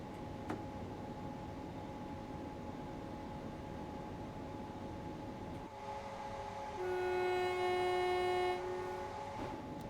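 A diesel train horn in the Train Sim World 4 simulator on the East Coastway line sounds one long, loud, steady blast midway through, rising above a constant low engine and cab rumble.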